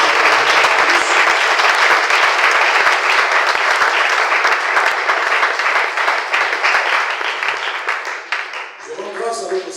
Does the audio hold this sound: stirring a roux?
no